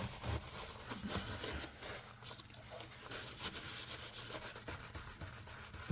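A file scraping a burr off a guitar fret, rapid rough rubbing strokes in quick rhythm, close and faint, no talk.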